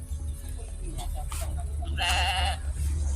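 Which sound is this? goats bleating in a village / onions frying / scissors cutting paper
goats bleating in a village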